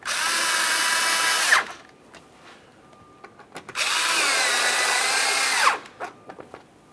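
Two bursts of a power drill whirring as it tightens two 7mm-headed mounting screws under the front bumper cover of a 2017-2024 GMC Acadia, each run about a second and a half, with faint clicks between.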